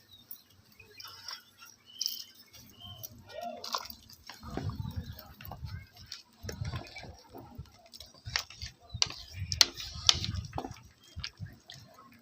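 Mutton curry bubbles at a boil in a pot, making soft, irregular pops and gurgles that stay quiet and close.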